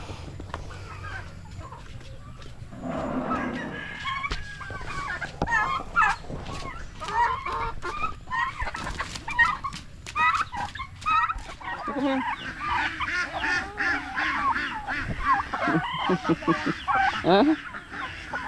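Pet ducks and chickens call together, with repeated clucks and quacking honks coming in uneven bursts at close range under steady background noise.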